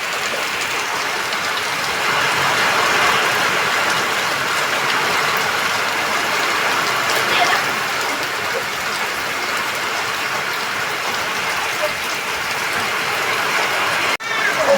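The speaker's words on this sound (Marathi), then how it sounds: "पाऊस पडतोय ना बघ, पोरं मस्ती करताय." Heavy unseasonal rain falls steadily on a Konkan village, a dense continuous hiss that stays loud and even throughout with no talk, ending in a brief sharp knock.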